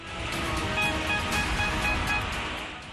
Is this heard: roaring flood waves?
yes